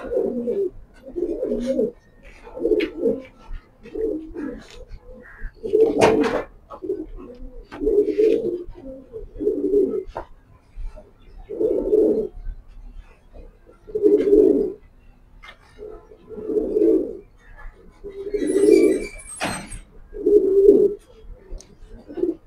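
Maxi pigeons coo in a series of soft, throaty phrases repeating every second or two, close by and fairly clear, with a few faint chirps in between.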